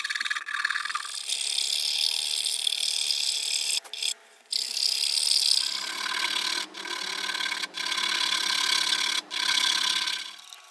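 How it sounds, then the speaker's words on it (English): A file rasps over wood while a violin is being shaped. The close strokes are long, steady and repeated, with brief pauses between passes. "And use files to make it as smooth as possible."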